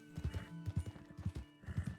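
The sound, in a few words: horse clip-clopping and neighing in video game Red Dead Online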